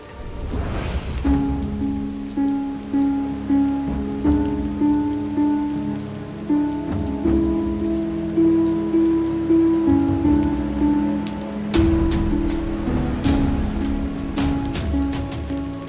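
Heavy rain pours down without a break, a steady roar of drops on surfaces with faint background tones and occasional louder spatters.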